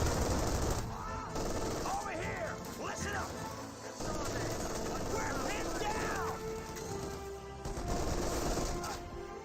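Bursts of .50 calibre machine gun fire in the WWII strategy game Company of Heroes 2, rapid staccato volleys amid battlefield noise, explosions and whistling shells, with a commentator talking over the action.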